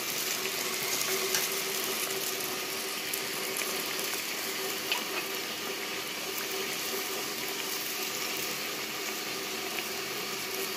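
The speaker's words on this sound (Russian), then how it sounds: "Почти я заканчиваю жарить этих лепешечек." Traditional Dungan flatbreads fry in a pan with a steady, even sizzle and crackle that runs continuously at a moderate level, with no voices present.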